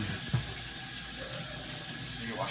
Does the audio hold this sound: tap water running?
yes